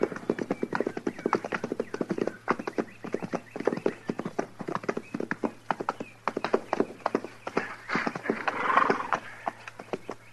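Horse hooves clip-clop steadily as riders move off outside a frontier fort in a 1953 western radio drama, a dense rhythmic patter of many hoofbeats close by, with a brief whinny and faint background sounds late in the passage.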